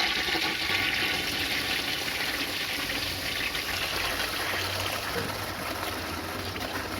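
A toilet flushes with reused washing machine water, a steady loud rush of water running continuously for several seconds with no break.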